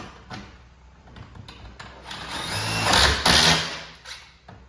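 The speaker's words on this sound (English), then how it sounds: "Screwing the hinges." Power screwdriver driving screws to fit hinges onto a small door, short whirring bursts that build into a louder, longer buzz with a few bumps and clicks, close by with no talk.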